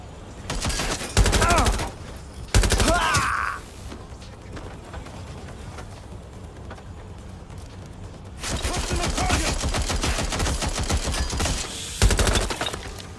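Sustained automatic gunfire in the video game Watch Dogs: Legion, long rapid bursts that start and stop, separated by a quieter gap, close and loud.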